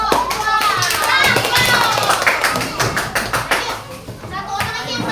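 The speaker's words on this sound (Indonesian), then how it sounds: "tepuk tangan untuk kelompok" Children in a classroom clap for a group of classmates: scattered, uneven hand claps and taps ring out among lively kids' chatter and voices, fairly close and busy throughout.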